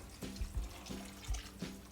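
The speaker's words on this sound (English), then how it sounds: "Then add the 3½ cups of water." Water being poured from a measuring cup into a slow cooker over vegetables, heard as a few soft, close splashing gushes in an uneven rhythm, quiet and unaccompanied by speech.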